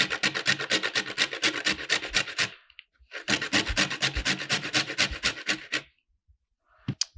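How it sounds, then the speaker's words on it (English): Peeled horseradish root (maror) rubbed against a sharp hand grater, making fast, rhythmic rasping strokes close up in two long bursts separated by a brief pause. "we take a grater and we grate"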